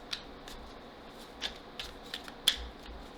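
Tarot cards are shuffled and drawn by hand, giving a few soft, quick riffling flicks and taps spaced irregularly over a quiet room background, faint and close with no voices.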